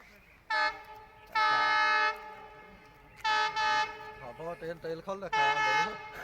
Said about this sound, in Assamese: ট্ৰেইন আহি পাইছে আৰু আমি এতিয়া